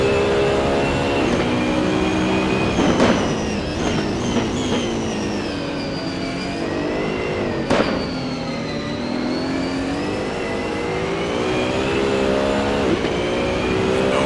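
Race car engines in a GT race at Zandvoort, one of them a Porsche, roar steadily and loudly for the whole stretch, with rising and falling tones as cars run close together and shift gears.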